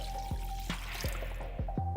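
Warm water poured into a pan of pork chop drippings and flour for gravy, producing a run of close, distinct drip-like plops and gurgles at a steady, irregular rhythm, with no talking.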